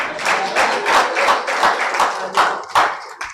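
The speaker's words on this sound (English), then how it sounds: "Ladies and gentlemen, another round of applause for him." Audience at a live business event gives a round of applause, a moderate crowd of distinct, fairly close hand claps in uneven bursts that taper toward the end.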